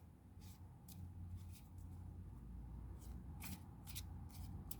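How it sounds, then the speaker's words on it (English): A deck of tarot cards is shuffled by hand, producing soft, repeated riffling and sliding bursts at an uneven rhythm, close and quiet over a low background rumble. "but I still sometimes struggle to shuffle this deck."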